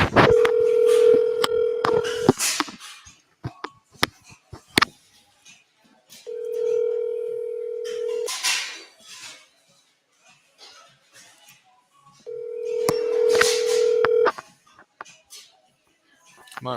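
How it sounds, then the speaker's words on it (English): Phone call placed to a real estate agent: a steady ringback tone sounds in three long bursts separated by pauses, with brief dialing clicks and low background noise between rings, and no one picking up. "Come on, Frederick, pick up the phone."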